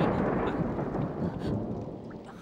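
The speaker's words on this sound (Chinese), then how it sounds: "师兄，我怕打雷。" Thunder from a kung fu film scene rolls as a steady, close, heavy rumble that fills the whole stretch, easing slightly toward the end, with no talk over it.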